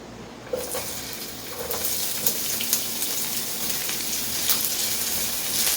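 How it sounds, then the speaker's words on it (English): Chopped onion sautéing in hot cooking oil in a pan, a steady dense sizzle that starts abruptly and keeps up continuously at close range, with a few faint clinks of a utensil. "let's saute first the onion"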